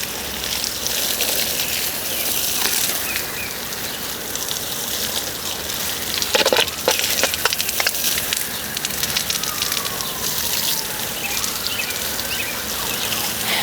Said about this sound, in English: I'm going to water our rose very well